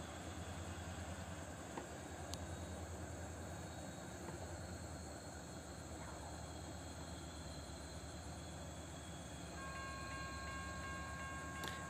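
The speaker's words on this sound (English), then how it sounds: "we are train chasing again" A P&L short train rumbles past a rail crossing outside Litchfield, a continuous broad roar with metallic rail noise, a brief horn-like tone near the end.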